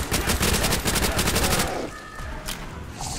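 Rapid automatic gunfire from a machine gun in a zombie shooter video game, loud dense bursts for about two seconds, then quieter game effects and faint tones.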